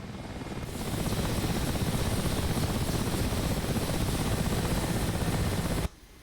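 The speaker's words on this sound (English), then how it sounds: "It's a very noisy helicopter." A loud helicopter drones with a rapid, steady rotor chop while flying at about 210 kilometres an hour, swelling in after a moment and stopping suddenly near the end.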